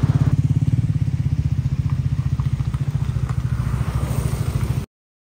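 A motorcycle engine runs close by on a highway near Mumbai with a steady, rapid throbbing rumble, loud and continuous for about five seconds before cutting off.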